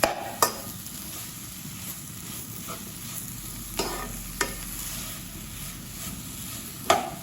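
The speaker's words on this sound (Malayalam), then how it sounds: "നന്നായിട്ടൊന്ന് ഇളക്കി കൊടുക്കാം." A steamed banana sweet mixture is stirred in a pan with soft scraping and faint sizzling, punctuated by a few sharp clicks of the spoon against the pan.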